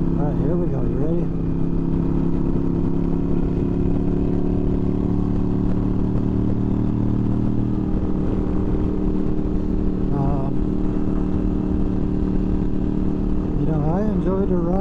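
A Yamaha Virago cruiser motorcycle engine runs loud and close, with a rumbling idle that swells in several revs, some near the start, around ten seconds and again at the end.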